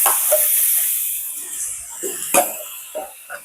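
Mutton frying in a pan with garlic and ginger gives a steady high hiss broken by intermittent pops and spatters, close and fairly loud, with no voices.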